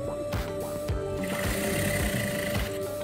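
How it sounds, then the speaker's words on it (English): Sewing machine stitching together the center back seam of a pair of pants with a half-inch allowance, a steady fast whirring hum running continuously throughout, close and fairly loud. "So using that half of an inch sewing allowance, I'll join the center backs together"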